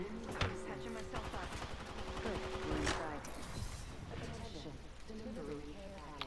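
Video game gunfire crackles in repeated sharp shots and bursts, mixed under steady in-game sounds and people talking.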